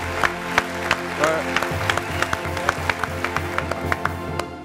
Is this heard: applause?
yes